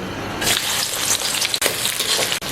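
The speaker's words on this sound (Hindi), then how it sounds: "तो ऑयल गर्म हो चुका है, इसके अंदर हम ये प्याज डाल लेते हैं।" Onions hit about a cup of hot cooking oil for mutton korma, giving a loud, steady, close sizzle with brief stirring scrapes.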